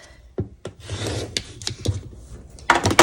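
Fabric being trimmed while assembling a charity quilt: close, irregular scraping and rubbing strokes with short sharp cuts and rustles, ending in a quicker burst of cutting.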